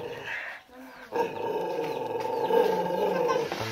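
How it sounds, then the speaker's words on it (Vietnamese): A fierce dog, tied up in a rural Vietnamese village, gives a harsh, growling bark that swells after a brief lull and rolls on loudly and close by. "chó dữ thế"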